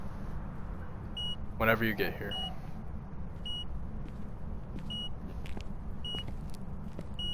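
An EMF reader in a ghost-hunting video game sounds its EMF 5 alert, a steady run of short, evenly spaced beeps over a low ambient hum. A voice talks briefly partway through.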